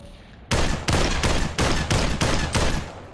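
Video game gunfire from an enemy shooter: about seven loud, evenly spaced bursts in quick succession, each a sharp crack with a short ringing tail, close and alone with no talk.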